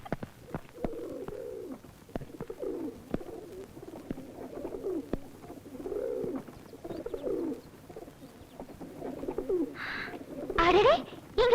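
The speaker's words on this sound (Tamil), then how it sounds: "அடடே இங்க பேர்ட்ஸ் எல்லாம் இருக்கே." Pigeons or doves coo repeatedly in soft, rhythmic phrases throughout, moderately close, with a few brief sharper sounds near the end.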